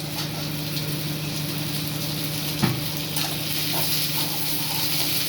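Onions and ground broad beans sautéing in a pan for a Tamil broad bean curry, a steady close frying sizzle with a brief clank of a utensil partway through.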